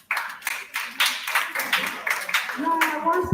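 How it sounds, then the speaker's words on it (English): A classroom of students claps for a classmate, a burst of scattered, uneven hand claps lasting a few seconds at moderate loudness, ending with a short voice. "clap for her"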